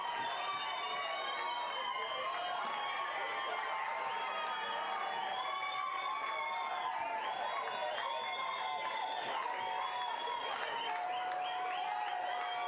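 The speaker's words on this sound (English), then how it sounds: "Some Dominican Republic fans cheering them on." Dominican Republic fans cheer and applaud at a women's football qualifier against the Cayman Islands, a steady, distant crowd roar with scattered whistles and shouts, no commentary over it.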